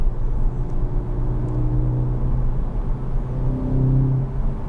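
A 2016 Skoda Octavia vRS engine winds up steadily under load to full speed, its droning hum rising in pitch as it accelerates, heard from inside the car.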